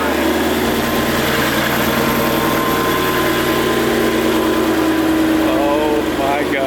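A supercharged 2019 Ford Mustang GT engine runs in a steady, loud, rumbling idle with a faint whine, while people talk over it throughout.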